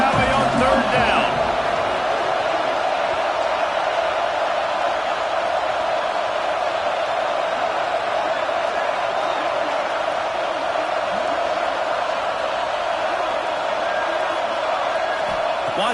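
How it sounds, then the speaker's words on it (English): A large stadium crowd at a Penn State football game in Happy Valley roars steadily on third down, a dense sustained wash of cheering and noise that stays loud and even throughout. "Here comes the noise from this big crowd in Happy Valley on 3rd down."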